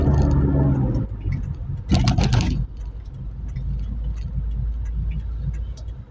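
A car drives along Quezon Avenue and swings through a U-turn on the way to a wheel alignment for camber, its engine rumbling steadily up close beneath a burst of louder road noise.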